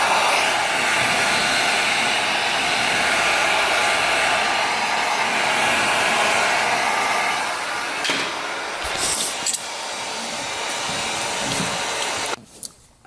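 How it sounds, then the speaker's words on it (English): Steady, loud whooshing roar of a heat gun running close by for a car wheel fitting job, holding constant for several seconds before some shuffling and clunks, then cutting off near the end. "get my heat gun"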